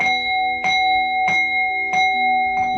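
Bells struck at an outdoor pagan Easter ritual, ringing out loud and close in five evenly spaced strikes whose bright, sustained tones overlap and linger between hits.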